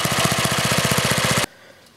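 A Briggs and Stratton small engine with a one-piece Flow Jet carburetor runs close by in a rapid, even chugging rhythm, then cuts off abruptly, leaving near silence.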